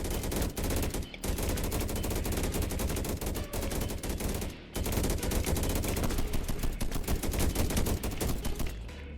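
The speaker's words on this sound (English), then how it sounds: "I do like those upgraded gun turrets, actually." Upgraded gun turrets fire constantly in a lava-zone base-defense game, a loud dense rattle of rapid automatic shots that barely pauses throughout.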